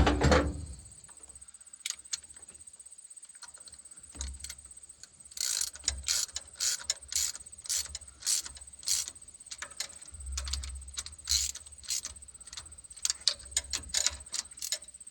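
A ratchet wrench clicking in quick bursts while bolts are tightened evenly on a dump truck pump against spring tension, close up and sharp, with short pauses between runs of clicks.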